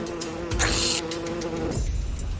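A giant hornet in flight gives a steady, close insect buzz that holds for about two seconds with a slight shift in pitch near the end.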